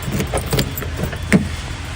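Keys jangle in a quick series of light metallic clinks and rattles while a car door is opened, close by, with a faint vehicle hum underneath.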